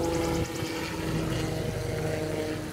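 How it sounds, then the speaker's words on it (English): A helicopter flying overhead, its steady rotor thrum and engine drone loud and continuous throughout with a pulsing beat. "Why is there a helicopter flying over?"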